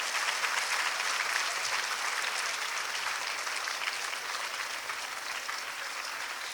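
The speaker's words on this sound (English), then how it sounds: "Give them a big round of applause" Steady, sustained applause from a school audience for student performers at a girls' high school inter-house dramatics event, even and fairly loud throughout with no talking over it.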